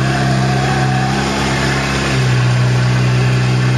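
A 2008 Polaris RZR engine drones steadily up close, then climbs to a higher, louder pitch as the throttle is pressed, with no talking.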